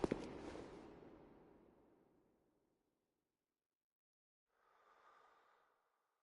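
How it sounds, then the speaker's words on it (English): Low, heavy creature breathing comes from behind a closed door in Bloodborne's Chalice Dungeon: a loud opening thud decays into a long exhale, then after silence a fainter second breath follows. "Just breathing, no slurping sound, so that means there's no vile blood."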